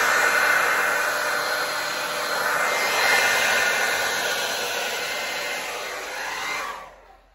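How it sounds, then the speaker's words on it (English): A hair dryer blowing fluid acrylic paint on a Dutch pour painting blows steadily with a loud, airy whoosh, then cuts off and winds down at the end. "I'm going to use this hair dryer just to blow it up on top"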